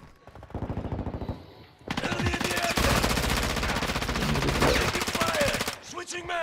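Rapid automatic gunfire in the video game Call of Duty: Modern Warfare II, with a short burst followed by a long sustained stream of loud shots, then a few scattered sounds at the end.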